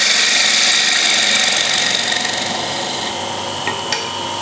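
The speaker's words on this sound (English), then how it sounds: "Just small cuts, you'll soon get there, and then we can do like a finishing cut. Slightly undercutting." A wood lathe makes a light finishing cut on a bowl with a slight undercut, producing a steady hissing, scraping shave that gradually softens toward the end, close and continuous.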